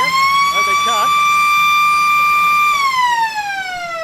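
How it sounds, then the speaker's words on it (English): A loud, sustained electronic siren at a football match sounds the end of the half, holding a steady tone, then sliding downward in pitch as it winds down, with a brief voice underneath early on. "The loudest siren in the history of football goes"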